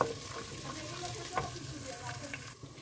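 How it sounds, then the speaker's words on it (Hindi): Steady sizzling of onion and ginger-garlic paste frying in a pan, a continuous crackle with occasional sharper pops and stirring scrapes, close up, no voices. "वन टीस्पून भर के अदरक का पेस्ट वन टीस्पून लहसुन का पेस्ट इसको एक मिनट के लिए भून लेंगे"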